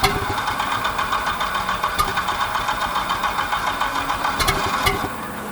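Bayliner boat inboard engine being cranked over, with a wobbling drive coupler, giving a steady loud rhythmic churning with faint knocking pulses throughout and no talk.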